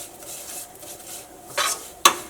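A spoon stirs vermicelli roasting in a pan for semiya payasam, light scraping and rustling with two sharp metallic clinks of utensil against pan near the end, close and quiet, no talking.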